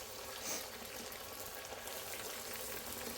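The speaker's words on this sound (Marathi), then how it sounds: "तेल तापलेलं आहे, त्यामध्ये मी कचोरी सोडते." Kachori deep frying in hot oil on a low flame, a faint, steady sizzling hiss with gentle bubbling that holds evenly throughout, no talking.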